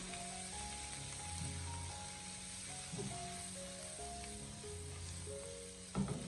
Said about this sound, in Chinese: 再把青椒丝也添加进来，然后立刻马上开中大火进行快速的翻炒